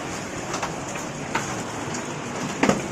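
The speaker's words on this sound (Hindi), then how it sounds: "तो घर में ओले आ गए।" Hail from a severe Delhi hailstorm falls into a house, a steady dense patter with a few sharper hits standing out, no voices.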